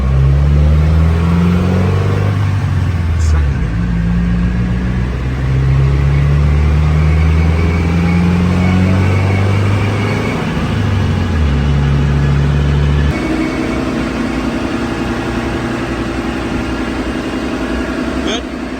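A Subaru WRX sits strapped to an all-wheel-drive dyno in third gear, its engine holding steady near 3,500 rpm with a loud, even drone, then dropping and shifting pitch partway through while people talk over it.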